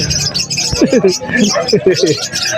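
Cockatiels at a bird stall in Bocaue pet market: a few short chirps and calls close by, mixed with someone talking and background market chatter.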